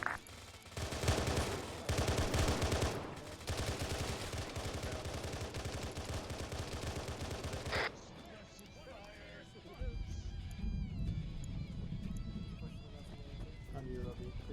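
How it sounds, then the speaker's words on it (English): Gunfire in the Arma 3 game with the OPTRE Halo mod, dense rapid bursts through the first eight seconds, then quieter scattered shots with players talking over the action. "There's shots."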